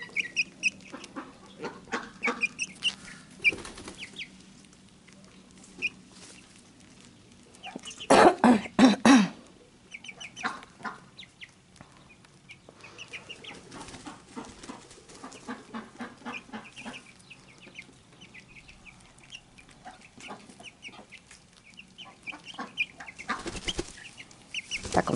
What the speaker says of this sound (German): Da kommt noch eine Henne.